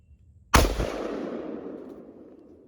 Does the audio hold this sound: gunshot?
yes